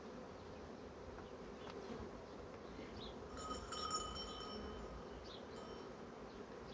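Honey bees at a treated hive buzz as a steady, faint drone throughout, with one brief, slightly louder pass near the middle.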